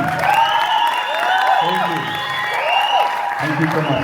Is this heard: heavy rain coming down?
no